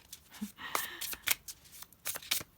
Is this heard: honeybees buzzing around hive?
no